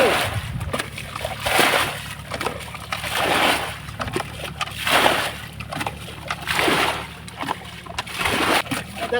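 Water from a paddy field pours and sloshes out in repeated surging splashes, rising and falling in waves, loud and close, alone without talk.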